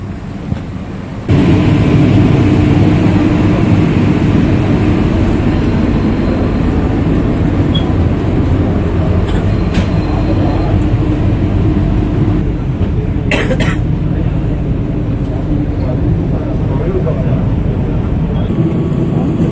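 A parked airliner at Doha airport produces a steady, loud engine roar that holds from start to finish after a quieter opening second, with brief higher-pitched hiss bursts toward the end.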